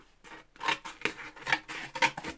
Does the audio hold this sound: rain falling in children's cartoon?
no